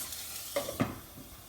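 Fish cooking in a covered pan, giving a soft, quiet sizzle with a couple of brief louder clinks or spatters partway through and no talking.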